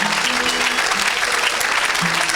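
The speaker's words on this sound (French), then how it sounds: "Est-ce qu'on peut acclamer pour Jésus?" Sustained applause from a worship audience acclaiming Jesus at a charismatic Christian gathering, steady dense clapping filling the whole moment at close range with no talk over it.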